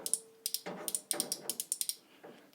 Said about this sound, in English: Some nice metallic ratchets in there.